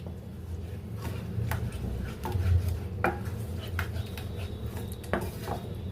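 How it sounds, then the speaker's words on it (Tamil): Curd is stirred into gram flour masala in a bowl. A spoon clinks and scrapes close up in an irregular rhythm, with repeated sharp taps on the rim over a low background hum. "இப்போது இந்த தயிர் சேர்ந்து நம்ம நல்லா கலந்து விடணும்."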